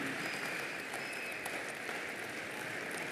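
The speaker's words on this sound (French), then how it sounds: "Vous pouvez les applaudir" Applause from the hall at a Party of European Socialists congress, a faint, distant, continuous patter of many hands with no voices over it.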